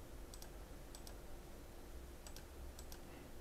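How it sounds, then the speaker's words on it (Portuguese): Faint clicks of a computer keyboard as keys, including Enter, are pressed for the AH-64D helicopter in the DCS flight simulator, coming in a few quick double taps spaced through a quiet room. "Dá Enter e dá Enter."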